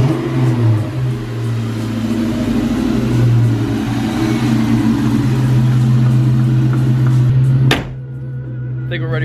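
A Ford Mustang engine idles loudly and close, a steady deep rumble with a slight rev swell before cutting off near the end, and a voice is heard alongside it.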